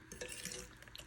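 Food being stirred and mixed in a pot during family dinner cooking, soft scraping and clinking of a utensil against cookware, faint and close, in brief uneven strokes.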